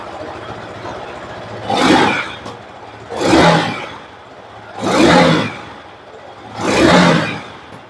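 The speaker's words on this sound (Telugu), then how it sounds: "ఒకసారి మీకు ఎగ్జాస్ట్ నోట్ అనేది వినిపిస్తాను." A Yamaha R15 V4 motorcycle exhaust rises sharply through four throttle blips, evenly spaced about 1.5 seconds apart, each dropping back to a steady idle between revs, recorded close up with no talk.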